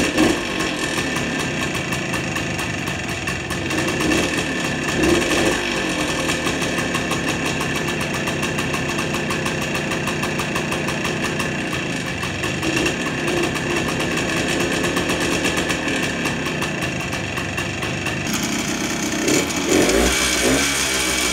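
A 1968 Yamaha DT1 250 motorcycle engine runs steadily at a rough, buzzing two-stroke pace, close and loud for the whole stretch, with the tone shifting near the end.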